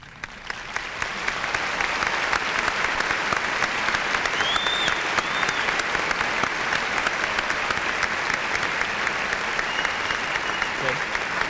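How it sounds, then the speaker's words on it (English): A high school graduation audience gives a long, sustained round of applause for top students, the dense clapping building quickly and holding steady at full volume throughout. "I would like for those students to stand at this time for a good round of applause."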